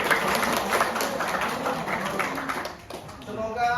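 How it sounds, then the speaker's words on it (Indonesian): An audience claps for Mutia at a teacher-training session, giving a steady spread of applause that thins out near the end. "Tepuk tangan dulu untuk Mutia."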